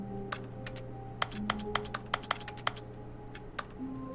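Clicky keyboard typing inside the video game The Stanley Parable, a run of sharp, separate key taps at an uneven pace over a steady low hum, fairly close and moderately loud.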